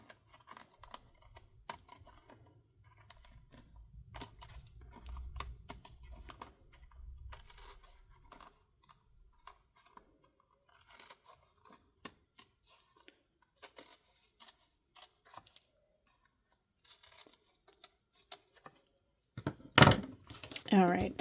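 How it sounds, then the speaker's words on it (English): Scissors trim paper for a handmade book cover in short, close snips scattered through the clip, with a voice talking throughout and a brief louder rustle near the end. "I'm going to turn it on this side and go ahead and trim that off."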